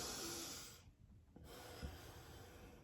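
Someone breathes in sharply through the nose twice, close to the microphone, each sniff a hissing, airy rush against a quiet background.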